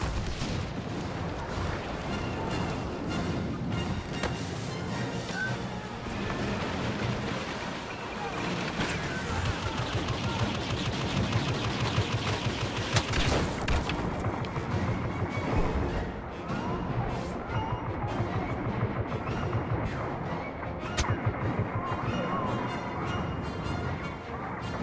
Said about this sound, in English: The AT-AT is about to open fire this way.